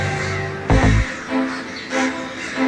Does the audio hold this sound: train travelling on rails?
no